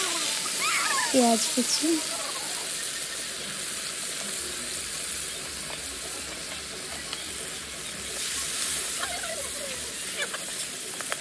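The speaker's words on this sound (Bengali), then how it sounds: "এরপর তেলের ভিতরে ফোড়ন দিয়ে দিচ্ছে তেজপাতা, শুকনো লঙ্কা, টমেটো কুচি" Bay leaf, dried chilli and chopped tomato fry in hot oil with a steady, close crackling sizzle throughout, while a voice talks over it.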